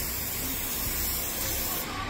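Steady spray hiss of protectant misted onto plastic, vinyl and rubber trim, one continuous close burst lasting about two seconds with no voices.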